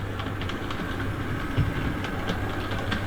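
Hornby R3840 W1 'Hush Hush' No.10000 model locomotive running in reverse on a track, a steady low motor hum and faint rolling rail rattle throughout, fairly quiet and continuous with no talk.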